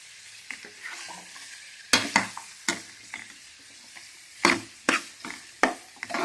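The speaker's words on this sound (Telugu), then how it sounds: "కొంచెం ఫ్రై అయిన తర్వాత ఆనియన్స్ కూడా యాడ్ చేసుకుందాం. ఆనియన్స్ కూడా బాగా ఫ్రై అవ్వాలి." Chopped onions sizzling and frying in a pan for chilli chicken, with a steady hiss broken by sharp scrapes and clacks of a spatula stirring, loud and close, with no talk.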